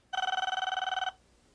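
A single burst of an electronic telephone ring, a rapid warbling trill lasting about a second, close and clear against a quiet background.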